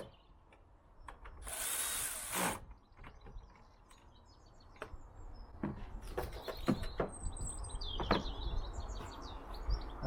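Power screwdriver spinning airflow meter screws back down on a BMW 3 Series E90, with a loud whirring burst early on, then several short buzzy bursts and ratcheting clicks amid workshop clatter.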